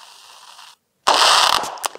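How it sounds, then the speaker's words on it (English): Firecrackers from July 4 fireworks crackle in a sharp, dense burst after a brief hush, preceded by a steady fizzing hiss and ending in a couple of louder pops. "Whoa. The crackers."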